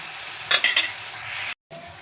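Bitter gourd and prawns sautéing in a pan, a bright steady sizzle with three quick stirring scrapes early on, then a brief drop to silence before the frying resumes.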